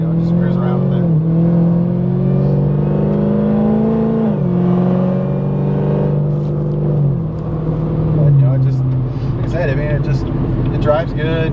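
A 1,000-horsepower Camaro SS street car cruises along, its engine a steady droning hum that rises and falls with gear shifts, heard from inside the cabin under continuous conversation.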